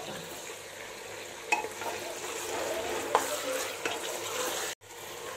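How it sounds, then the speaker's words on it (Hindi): Mutton with ginger garlic paste fries in a pot, giving a steady, moderate sizzle with occasional spoon scrapes and clinks, a short break near the end, and no talking. "साथ ही में हम डाल देते हैं इसमें जिंजर गार्लिक पेस्ट, और इसको 2 मिनट के लिए अच्छे से भून लेते हैं"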